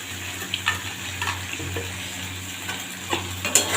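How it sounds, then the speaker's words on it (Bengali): Ground spices for paneer posto sizzle gently in hot oil in a pan while a spoon stirs and scrapes them, a continuous soft frying hiss with occasional louder scraping strokes, close by and without talk. "মশলাটা সব দিয়ে ভালো করে কষানো হচ্ছে"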